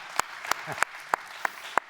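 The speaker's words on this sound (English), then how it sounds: "The applause is welcome." A few scattered, separate claps ring out at an economics summit, about six in two seconds, sparse and hesitant rather than full applause, with a faint murmur between them.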